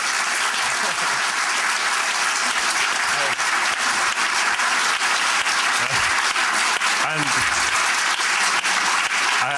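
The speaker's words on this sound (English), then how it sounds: "I just wanted to ask you to give a warm round of applause to Tony Dunne for being such a wonderful MC." After a talk, an audience gives a warm round of applause, dense sustained clapping that fills the room steadily for nearly ten seconds with a few faint voices beneath.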